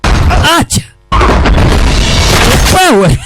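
Gunfire in a Swahili-dubbed action film: loud, harsh blasts fill the scene with dense noise, briefly dropping out, while voices shout over the action.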